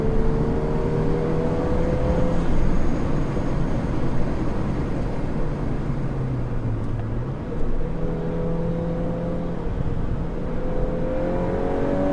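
A Volkswagen Golf R accelerates through canyon roads, its engine note climbing and falling in long sweeps as it passes, a continuous loud drone with a brief dip before building again.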